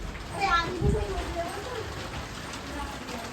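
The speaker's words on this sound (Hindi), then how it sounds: "देखो बारिश कैसी आ गई है जोरदार" Heavy rain pours down steadily in the background while people talk nearby during a gathering at home.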